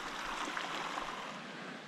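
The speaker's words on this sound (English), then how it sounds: "So this is Pilot Creek, first obstacle of the day." Pilot Creek rushing through wilderness near a track ford, a steady, fairly loud broadband wash of flowing water with no pauses and no voices.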